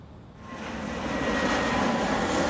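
A Delta airliner passes overhead outdoors, its jet engine roar building from quiet to a loud, steady, broadband rush that holds through the end, with no talking.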